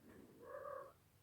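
Cat giving a single short, faint meow at close range in a quiet indoor room.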